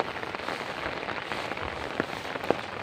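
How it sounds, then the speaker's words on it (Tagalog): Steady rain falls outdoors in thick grass, a soft, even patter with a few sharper drops standing out, moderately quiet and with no voices. "umuulan"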